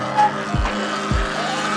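A Surron Ultra Bee electric dirt bike spins a 360 skid at a gas station, giving two short scrubbing tire bursts with a steady electric motor whine behind them, close and loud.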